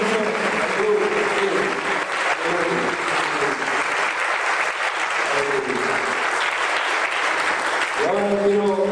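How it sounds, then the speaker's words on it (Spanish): A church congregation at a Spanish-language service applauds loudly, sustained clapping filling the room with tonal music or voices sounding underneath and swelling again near the end. "Le damos un fuerte aplauso al Señor por estos países"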